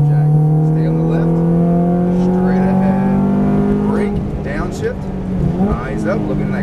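A Ferrari F430 F1 engine accelerating at full throttle on a track, its loud rising engine note climbing steadily, close, with an instructor talking over it.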